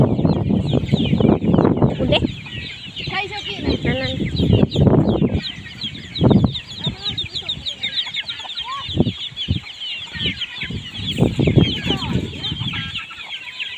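Chickens and ducks at a rural home in Thailand, with dense clucking and squawking close by, plus a rooster-like call, and someone talking intermittently over the flock.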